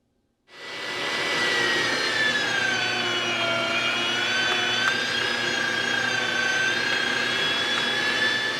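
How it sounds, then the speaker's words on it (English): An electric meat grinder fitted with a medium plate runs steadily, grinding chicken with ham and cheese for cordon bleu sausage; a loud, continuous motor whine with a high tone starts abruptly and holds without a break. "I have my medium-sized plate on this grinder. It's doing a pretty nice job."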